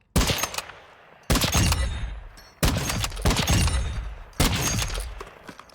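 Carrick sniper rifle in a video game firing four sharp, loud shots at roughly one-second intervals, each crack followed by a decaying rumble and tail, no voices.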